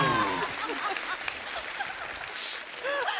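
A live studio audience claps steadily for a few seconds, a dense, continuous wash of applause with a few scattered whoops above it.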